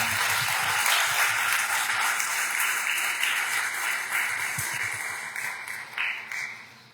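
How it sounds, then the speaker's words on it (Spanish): A church congregation applauds with dense, steady clapping that gradually fades toward the end. "Dale un aplauso al Señor."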